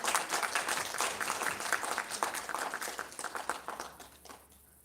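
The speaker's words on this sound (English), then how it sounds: "Great round of applause." An audience at an awards ceremony claps in warm, lively applause, many hands at once, moderately loud and then tapering and fading toward the end.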